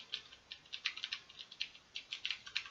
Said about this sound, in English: I also start to write on my mechanical keyboard